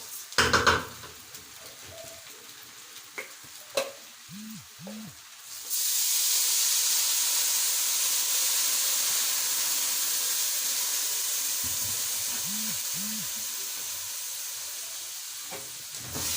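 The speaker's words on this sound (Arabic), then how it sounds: "دلوقتي على طول هطشه بالميه اللي معاه" Water splashed onto sautéed rice in a hot pan bursts into a loud, sustained sizzling hiss that slowly fades, preceded by a few scattered clinks of a utensil against the pan.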